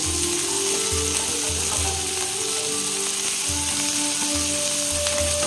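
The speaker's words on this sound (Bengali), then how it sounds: "এবার দিয়ে দেবো এখানে আদা রসুন বাটা" Ginger-garlic paste hits a hot pan for homemade mixed chow mein, raising a strong steady sizzle over low, rhythmic knocks and scrapes of utensil on metal, close and with no voices.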